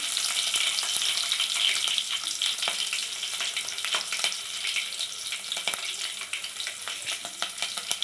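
Mustard seeds, cumin and green chillies fry in hot oil, giving a dense, bright sizzle with crackling pops and occasional stirring, close and steady throughout, no talk.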